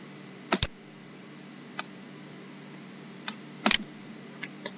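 A computer mouse clicks several times during work in a data-mapping program. Crisp, close clicks come in small pairs and singles, separated by quiet pauses.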